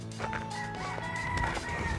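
Chickens on a farm near Phan Thiet, with a rooster crowing and hens clucking close by, a steady outdoor farmyard scene with no talking.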